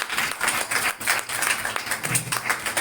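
A church congregation applauding loudly, a dense wash of many hands clapping at once, sustained and steady throughout with no clear voices.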